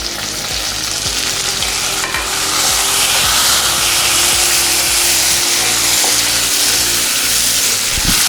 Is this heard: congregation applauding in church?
no